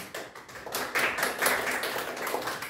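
A school class clapping to vote for a favorite in a Proerd program in Maringá, Brazil: scattered, light handclaps from several children, uneven and modest in volume, rising a little partway through.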